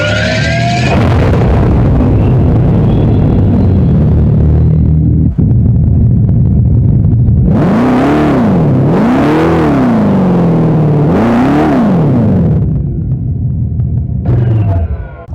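A Dodge Charger Daytona's engine idles with a deep rumble, then revs hard three times in rising and falling surges, loud and close, before dropping back and blipping once more at the end.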